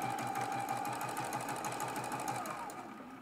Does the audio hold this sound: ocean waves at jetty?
no